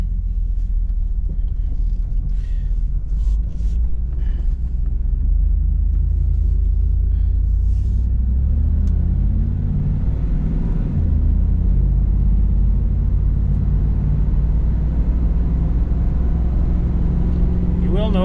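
A 1997 Pontiac Trans Am on the move, its engine a loud, steady low rumble that holds throughout, with faint road noise.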